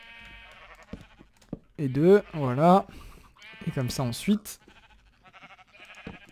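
Sheep in the video game Minecraft bleat in two loud wavering calls near the middle, with a person talking quietly before and after.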